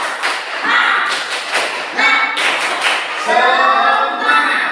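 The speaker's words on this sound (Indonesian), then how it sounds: "coba kasih tepuk semangat dulu Pak Guru" A school class does a rhythmic 'tepuk semangat' clapping chant, with sharp, close claps and thumps in a patterned beat while the children's voices chant along, ending in a longer sung call.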